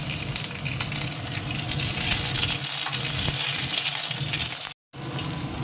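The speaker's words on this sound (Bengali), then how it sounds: "এবার দিয়ে দেবো কাঁচা লঙ্কা কুচো" Chopped green chilies frying in a pan, a steady hissing sizzle with stirring scrapes throughout, broken by a brief moment of silence near the end.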